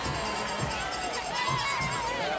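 Spectators at a high school football playoff game between Page and Mallard Creek keep up a steady, noisy roar of cheering and shouting, with a continuous crowd murmur and occasional louder voices from the stands.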